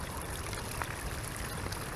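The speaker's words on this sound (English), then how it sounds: "Now look at all the water coming out of that one." Water rushes steadily out of a drainage outfall pipe below a retaining wall, carrying roofing shingle grit. The flow is a constant, close, unbroken wash.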